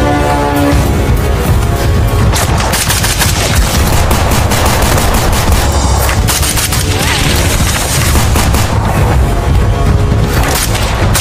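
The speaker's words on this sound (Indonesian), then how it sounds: "Mirko yang belum mengetahui kalau saat ini dia telah dikepung oleh beberapa anak buah Majid dan baku tembak pun terjadi kembali" Movie shootout gunfire, dense loud bursts of shots and rapid automatic fire hammering without pause, with a voice narrating over the din.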